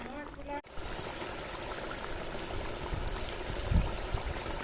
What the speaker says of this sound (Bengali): এখন আমি পটল আর চিংড়ি দিয়ে দেবো